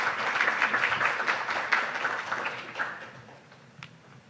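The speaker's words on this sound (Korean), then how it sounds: "큰 박수로 국장님을 맞아주시기 바랍니다" Audience applause welcoming the ICAO technical cooperation director to the podium at an aviation training conference session, a steady roomful of clapping that thins and fades over a few seconds.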